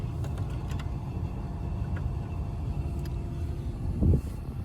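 A 1984 Oldsmobile Delta 88 engine idles in a low, steady rumble after sitting on eight-year-old gas, holding an even drone with a brief louder surge near the end.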